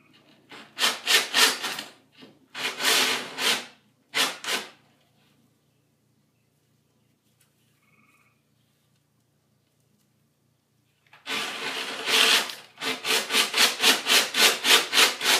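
A drill bit cuts through wood while a hovercraft is being built, making harsh bursts of raspy grinding close to the microphone, separated by a long quiet pause before the drilling resumes in rapid pulses.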